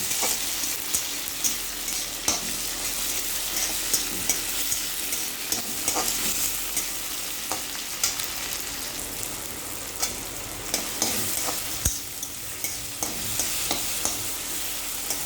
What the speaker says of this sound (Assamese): এতিয়া কাটি থোৱা বিলাহীখিনি দিলোঁ।